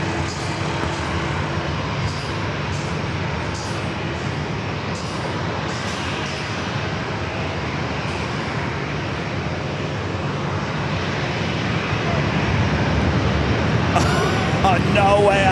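An airliner takes off from runway 27 at San Diego airport: a steady, loud broadband engine roar fills the whole stretch and swells toward the end, with radio voices speaking over it.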